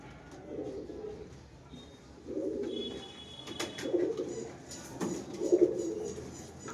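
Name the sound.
pigeons cooing in a loft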